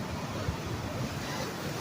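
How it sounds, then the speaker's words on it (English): Ocean waves at night on Pismo Beach make a faint, steady rushing surf with wind noise across the microphone. "look at those waves."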